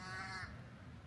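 A crow cawing in Skagway, Alaska, one harsh drawn-out call, fairly close and clear over quiet outdoor background.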